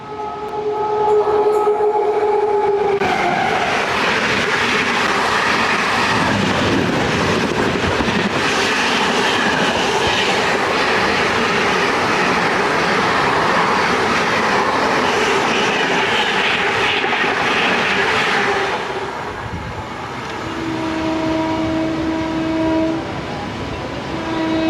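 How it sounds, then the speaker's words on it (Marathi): A Western Railway superfast express train thunders past at about 110 km/h on the Virar–Dahanu line, a loud roaring rush of wheels and carriages, with horn tones sounding before and after it passes. "जलद गाडी पास होणार आहे"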